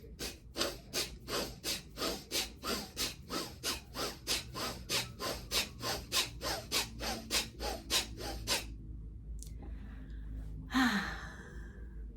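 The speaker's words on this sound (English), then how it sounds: "It's the bellows breath where you're inhaling and exhaling rapidly." Bellows breathing, with rapid rhythmic inhales and exhales through the nose, about two per second for roughly eight seconds, close and steady, then a pause and one long audible breath.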